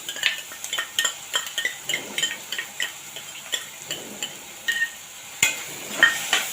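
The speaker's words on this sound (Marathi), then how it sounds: "आता चांगलं परतून घेऊया" Ginger-garlic paste with a chili being stirred and sautéed in a pan for tomato rice: steady rhythmic scraping and clinking of a utensil against the pan over a soft, faint sizzle, with no talking.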